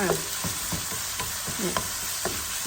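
Pork being stir-fried in a pan for Thai basil pork rice, with a steady sizzle and repeated scraping, tossing strokes of the spatula at a brisk rhythm, close and alone.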